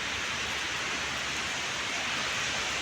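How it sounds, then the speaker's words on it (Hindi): Heavy rain falls in Taif, Saudi Arabia, a dense, steady broadband wash of downpour with no breaks, loud and even throughout. "सऊदी अरब ताइफ में देखिए 3 दिन से लगातार बारिश हो रहा है"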